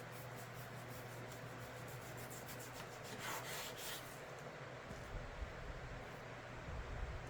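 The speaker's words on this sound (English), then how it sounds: "This knife is so sharp, it's actually cutting into my cutting board too." A sharp knife slicing beef on a cutting board, with the blade biting into the board: soft repeated rasping strokes in the first few seconds, then a quieter scraping rustle, close and alone.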